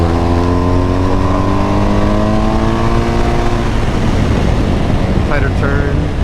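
A race car engine winds up through the gears on track with the throttle cracked open into a turn, a loud, rising whine that cuts to a rougher burble as the car settles.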